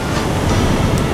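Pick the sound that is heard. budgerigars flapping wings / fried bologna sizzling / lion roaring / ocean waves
ocean waves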